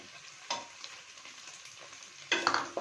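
Cabbage goes into a hot pan of frying noodles and egg, with a steady close sizzle, a sharp hiss at first and a louder burst of crackling and stirring near the end.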